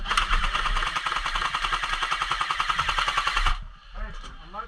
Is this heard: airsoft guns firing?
yes